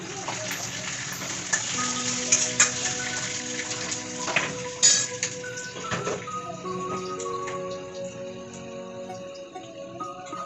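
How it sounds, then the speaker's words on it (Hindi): Hot oil crackles and sizzles steadily with sharp pops as mustard seeds and curry leaves fry, moderately close, with a few clinks of utensils. "गरम तेल है और मैं राई का और कड़ी पत्ते का इसमें तड़का लगा रही हूँ"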